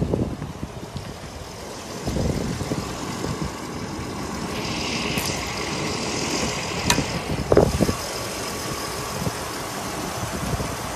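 A 1990 Mercedes-Benz 500 SEL with its hood open idles steadily, a low continuous engine hum with a few brief higher whines and clicks midway, and no one speaking.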